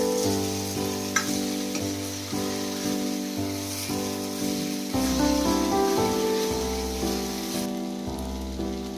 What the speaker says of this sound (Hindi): कुछ देर हम इसे अभी खुले में ही खुला छोड़ के बिना ढके इसे हिला हिलाकर पकाएंगे